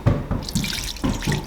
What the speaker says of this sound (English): Now I'm going to add a little bit of water, maybe about a 1/4 cup to a 1/2 cup.